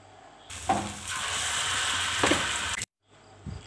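Bread and banana snack pieces frying in hot oil, a loud steady sizzle swelling up after a quiet start with a couple of scraping knocks, then cutting off briefly before resuming faintly.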